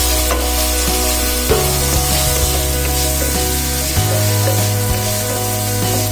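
Fried rice frying in a pan, a loud continuous close sizzle and hiss with occasional stirring scrapes and clunks of the pan, no voices.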